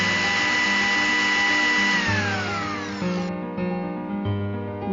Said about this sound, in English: Smoothen the refrigerated coconut ice balls in a mixer grinder and make a creamy paste of it.